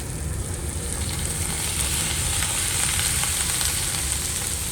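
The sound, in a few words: peppers sizzling in a hot pan before adding shrimp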